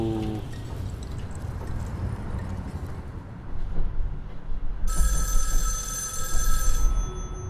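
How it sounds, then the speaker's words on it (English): A telephone rings in a game, a repeated electronic bell tone entering partway through over a busy, noisy background. "phone's ringing."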